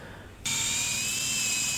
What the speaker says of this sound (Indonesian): Setelah itu tinggal kita bor dan kita paku rivet di bagian sambungannya.